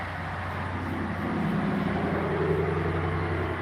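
A loud car passing along a street, its low engine rumble swelling steadily and holding near throughout, with no talk over it.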